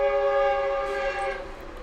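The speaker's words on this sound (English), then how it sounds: "And here comes the train early in the morning." A passing train sounds its horn in the early morning, one loud sustained multi-tone blast that fades slightly toward the end, heard alone.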